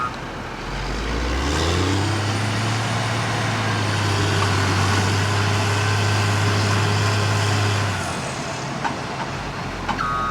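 A truck engine labours at steady high load while pulling another truck that is bogged down. The drone stays loud and close for about eight seconds, then eases off, with faint higher tones over the rumble.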